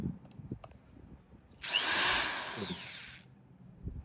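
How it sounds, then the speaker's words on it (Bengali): A WADFOW WED15281 electric drill screwdriver set to low torque whirs steadily for about one and a half seconds, close up, between light handling clicks and taps. "এটা টর্ক সেটিং খুব লোতে দেওয়া আছে, মানে কম পাওয়ারে ঘুরবে।"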